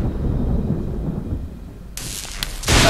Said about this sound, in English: And we'll do some lightning.